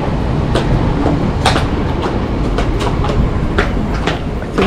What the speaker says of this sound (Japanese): もう真ん前に電車が通っております。